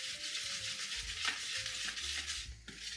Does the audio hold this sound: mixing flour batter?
yes